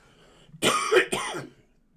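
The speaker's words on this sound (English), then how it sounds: "I've got the cough back again, everybody, today." A single cough, two quick harsh bursts close to the listener, with quiet before and after.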